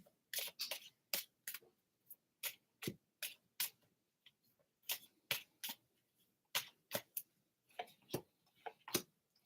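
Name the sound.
shuffling tarot cards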